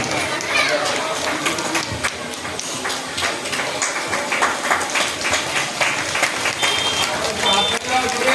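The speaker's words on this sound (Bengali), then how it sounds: "জোনাল উইনারের জন্য হাততালি" Crowd applause for zonal winners at a prize giving on a football ground, a dense patter of many hands clapping steadily, with voices mixed in.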